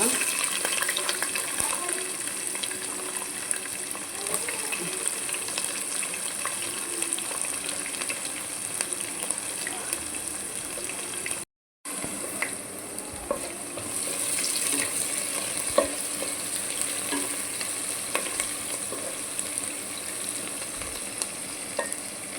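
Curry leaves, green chillies and onion fry in oil for an ivy gourd curry, giving a long, steady sizzling hiss with scattered pops and stirring scrapes and a brief cut of silence midway.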